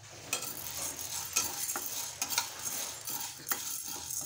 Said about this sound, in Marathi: तर कढईमध्ये मी चणा डाळ भाजून घेत आहे